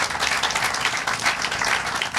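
Applause for the anthem singer at an outdoor groundbreaking ceremony in a tent, a steady wash of many hands clapping at moderate loudness for the whole stretch, with no talk.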